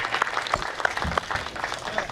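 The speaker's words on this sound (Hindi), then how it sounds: "एक बार सुंदर संचालन के लिए जोरदार तालियां बजा दीजिए" An audience at a Hindi poets' gathering applauds the host, a moderate, uneven patter of many hands clapping with some louder individual claps and murmuring voices underneath.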